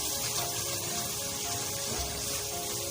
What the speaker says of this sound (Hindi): इसमें थोड़ा सा पानी डालेंगे मसाले में